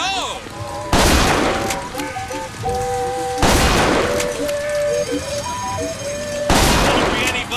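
Bursts of gunfire and explosive booms from the video game Bioshock Infinite, loud and close, repeating at intervals over a musical score with voices talking throughout.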